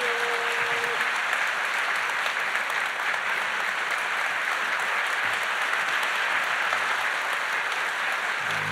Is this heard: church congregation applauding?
yes